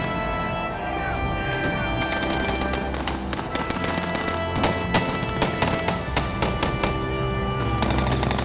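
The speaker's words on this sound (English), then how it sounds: "There's no mistake hearing the cacophony of the machine guns" Machine guns rattle in a World War II battle reenactment, dense bursts of rapid gunfire and sharp cracks layered over a rumbling background, loud and continuous throughout with no speech.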